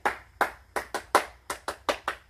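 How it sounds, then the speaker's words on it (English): Nine sharp hand claps during a home strength workout, close and distinct, spaced at an uneven rhythm with short silences between them. "Whenever I hear that clap, you always have to finish it."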